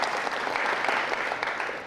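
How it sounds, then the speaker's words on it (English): Audience applause at a keynote talk on digital rights, a steady roomful of clapping that holds at an even level for a couple of seconds without any speech over it. "Yeah, thanks for the applause."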